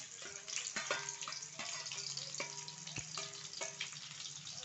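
Onion frying in oil crackles and sizzles steadily up close, with occasional sharper pops and a spoon scraping through the pan now and then, no voices.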